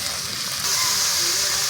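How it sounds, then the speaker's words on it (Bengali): Cabbage meets a hot pan with spices and water, giving a steady loud sizzle that swells partway through and holds, with faint voices in the background. "করে রাখা কপিটা এবার দিয়ে দেবো।"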